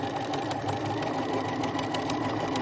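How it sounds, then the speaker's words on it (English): A sewing machine sewing down a strap runs in a continuous, close, fast mechanical whir with no pauses or voices. "I'm going to sew 1/8 of an inch away from the edge, and I'm just going to sew down"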